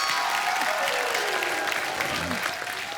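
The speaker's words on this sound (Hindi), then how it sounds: "एक बार जोरदार तालियां इन सारे सुपर हीरो के लिए।" A studio audience at a comedy show claps loudly for cricket legends, a dense burst of applause with a voice or sliding tone mixed in beneath it, easing off slightly at the close.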